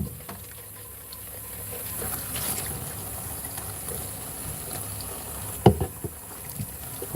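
Water running and splashing as airbrush parts get rinsed out, a soft continuous trickle with a few sharper knocks and splashes near the end.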